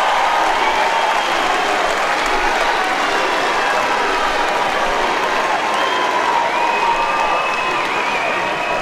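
Loud, steady applause from a large crowd at a strongman team competition between the UK and USA, dense clapping with some cheering running without a break throughout.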